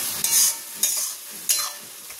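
Onions, tomatoes, chilli and garlic sautéed in a pan, with three distinct scraping stirs over a soft background sizzle, close and fairly quiet.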